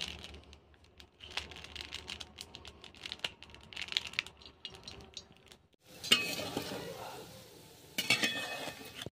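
Pieces of Sita Bhog dough drop into hot oil, which breaks into a bright crackling sizzle that swells twice in loud bursts after quieter clinks and scraping in the kitchen.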